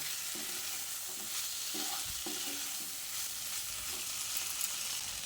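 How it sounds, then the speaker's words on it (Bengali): Potato and spices frying in a pan, stirred now and then: a soft, continuous sizzle with scattered scraping clicks, faint and close, with no talk. "মশলার সঙ্গে আলুটা খুব সুন্দরভাবে কষানো হয়ে গেছে"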